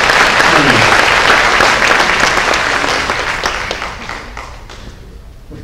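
A church audience at a senior recognition Sunday gives a loud round of applause that holds strong for a few seconds and then gradually tapers off, with faint voices underneath.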